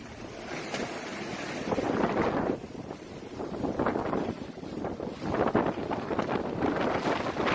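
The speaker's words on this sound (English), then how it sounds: "gale force winds battered the British territory" Gale-force storm winds battering a British territory, roaring and gusting in heavy, rough surges that swell and ease over several seconds, loud and close with constant buffeting against the microphone and no voices.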